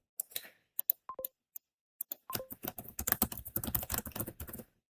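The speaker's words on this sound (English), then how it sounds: "type in the title of the song" Typing on a computer keyboard, entering a song title: sparse isolated keystrokes at first, then a fast continuous run of close, crisp clicks before it stops.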